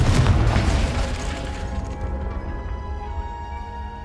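A Confringo spell in Hogwarts Legacy bursts into a loud, close explosion, a heavy boom that rumbles and rings out slowly over the following seconds.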